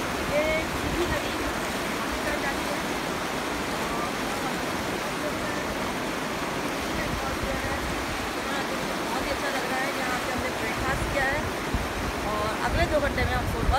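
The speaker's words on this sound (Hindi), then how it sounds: "यहाँ पर ये सिंध नदी बह रही है, बहुत ही ठंडी हवा चल रही है और पानी की आवाज़ आप सुन रहे हैं, कितना तेज़ बहाव है" The Sindh river rushes fast on the way from Srinagar to Sonmarg, a close, loud, unbroken roar of cold water with wind mixed in.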